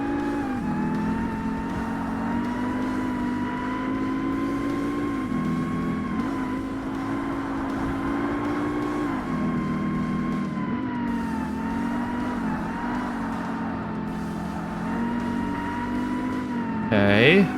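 Race car engines in the Xbox game Forza Motorsport drone steadily and loudly throughout, with pitch rising and dipping as gears shift, and a sudden rising whine near the end.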